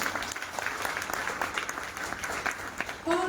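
Audience applause at an IMC products training program, a dense steady patter of many hands clapping at moderate level, with a brief voice and a tonal sound near the end.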